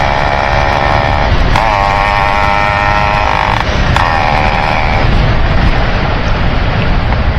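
A Yamaha RX100/RX135 motorcycle with an altered muffler revs loud and close, a dense, raspy engine roar whose pitch climbs and falls in a couple of throttle blips over a continuous rumble, with no talking.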